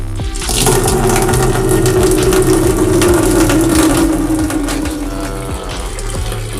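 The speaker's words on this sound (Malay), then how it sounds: "air ni nanti dia akan pusing sini dan dia akan masuk, dia akan tapis dekat filter ni dan turun ke bawah" Water flows through the filter of a betta fish tank, a loud, close gurgling rush with a mechanical pump churn underneath that runs steadily without pause.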